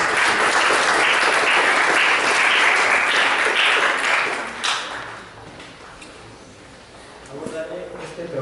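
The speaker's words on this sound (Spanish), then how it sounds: "Recibimos con un fuerte aplauso a nuestro compañero." An audience at an academic literature lecture gives loud, dense applause to welcome a speaker; it holds strong for several seconds, then thins and fades, with a few sounds and a voice emerging near the end.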